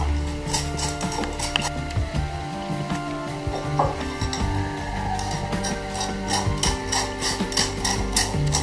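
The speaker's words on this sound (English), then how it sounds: "just going to pass all the eggs through the sieve in order to strain it from any sand or any spike left" Sea urchin roe pressed through a metal sieve in a kitchen to strain out sand and spines: a close, continuous rasping scrape with irregular taps and rubbing strokes.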